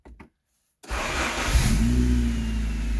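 A Honda EF9/ED7 Civic engine with a new budget wiring harness fires up after a short pause, catching and settling into a loud, steady idle with a rising rev, close by and alone.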